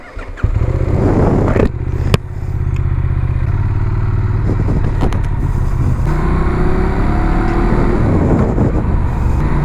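A Benelli Leoncino 800 motorcycle engine starts with a clatter, then settles into a loud, close, throbbing idle and rev as the bike pulls away, steady and dominant throughout.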